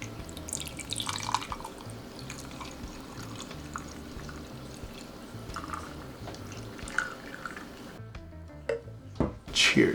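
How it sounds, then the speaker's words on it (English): Homemade Jamaican sorrel made from dried sorrel is poured into a glass of ice, with close liquid splashing and trickling, clinking drips and a brief burst of pouring near the end. "I have my glass and I have ice and I'm gonna pour the sorrel"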